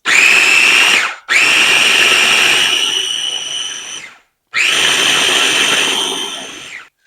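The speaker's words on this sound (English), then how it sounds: "And you blend it." A blender motor whirs loudly in three bursts while blending low-carb pizza dough, each starting high and slowly winding down in pitch, with short silent gaps between runs.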